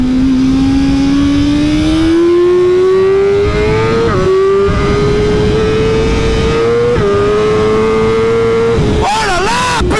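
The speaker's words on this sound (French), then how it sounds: "il arrache le moteur, il est incroyable" A 2023 BMW M1000R motorcycle engine pulls hard through rising revs in long, loud, close sweeps with brief gear-change dips, and a sharp blip near the end.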